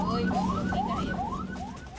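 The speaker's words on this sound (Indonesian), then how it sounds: "Suara sirene dan klakson mobil ambulans seolah tak dihiraukan pengemudi mobil pribadi." An ambulance siren on a road in Tangerang, Banten, yelps in rapid rising sweeps, four or five in a row, over a steady droning tone, moderately loud amid traffic noise.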